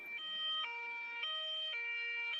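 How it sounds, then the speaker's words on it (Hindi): An ambulance siren wails in a steady two-tone alternation, loud and continuous, with no other sounds. "एम्बुलेंस लाडो को लेकर अस्पताल की तरफ निकल पड़ती है।"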